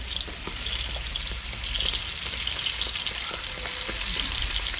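Shishamo fish frying in hot oil, a steady close crackle and sizzle with fine popping running without pause and no voices.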